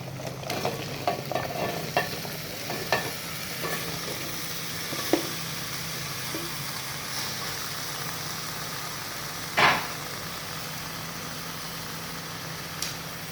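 Potatoes added to onions in a home kitchen pan, frying with a steady low sizzle and occasional stirring scrapes and clinks, with one louder clatter near the middle.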